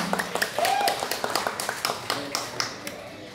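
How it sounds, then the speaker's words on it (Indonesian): An audience claps for the women in quick, uneven bursts, fairly close and moderately loud, under a voice speaking over it. "Tepuk tangan untuk ibu-ibu semua"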